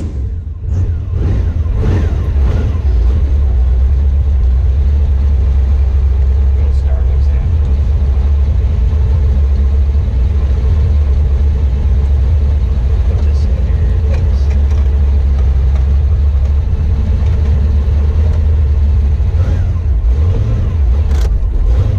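A 1972 Pro Street Camaro with its engine rumbling loudly and deeply throughout, a heavy low drone while driving, with a voice talking over it at times.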